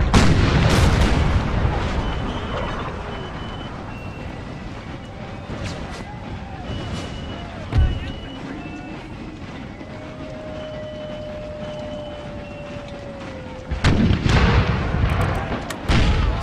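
Musket volleys and artillery booms from a battle in the Empire Total War game, with a dense continuous crackle of gunfire, a louder boom near the middle and a heavy burst of firing toward the end.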